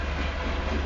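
Southbound Union Pacific grain train rolling past close by, a steady dense rumble of railcars with faint clickety-clack.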